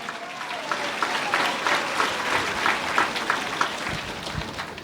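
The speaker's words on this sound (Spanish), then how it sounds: "Fuertes aplausos, Iglesia de Cristo." A church congregation in Sucre, Bolivia applauds steadily, a dense patter of many hands clapping at moderate loudness that carries on throughout.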